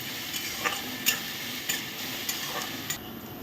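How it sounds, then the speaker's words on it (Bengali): Onions frying in a pan with sugar added, a steady soft sizzle broken by several brief scraping stirs, close and fairly quiet. "এবার আমি পেঁয়াজটা ভালো করে লাল করে ভাজবো।"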